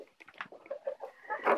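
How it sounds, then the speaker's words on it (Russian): Rooster and hen on a farm flock of laying chickens, a run of short clucks and squawky calls close by, getting louder toward the end. "петух, вот он, с курицей."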